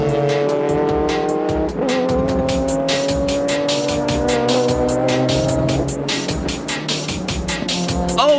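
GT race cars from the JGTC series screaming past at full throttle, engines revving hard through gear changes with tire squeal, loud and continuous throughout.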